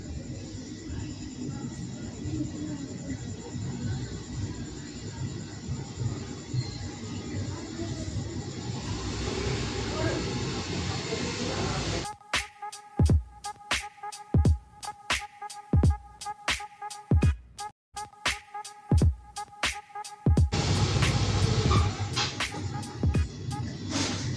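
Egg batter snacks (milor) fry in hot oil, giving a steady broadband sizzle for about twelve seconds before a rhythmic clicking, tonal pattern takes over. Speech may be faintly present.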